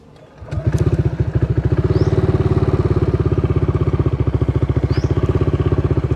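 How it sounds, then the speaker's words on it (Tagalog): A Honda PCX 160 scooter fitted with a racing ECU cranks and catches, then settles into a steady, close, loud idle with an even rapid pulse, running on alone without talk. "Ayun, nag-start na po ang motor natin"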